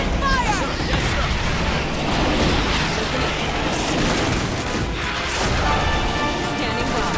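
Starship Troopers: Terran Command battle with dense, continuous gunfire and crashing impacts filling the whole stretch, loud and close, with voices talking under the din.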